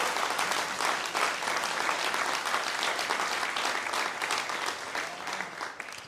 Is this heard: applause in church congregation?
yes